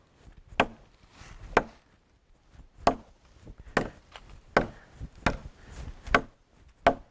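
A butcher knife chops into a solid tree trunk outdoors. About nine sharp, woody strikes land at uneven intervals, each a crisp close thwack with quiet pauses between. No voices are heard.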